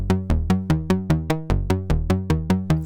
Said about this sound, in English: The classic low-pass gate pluck.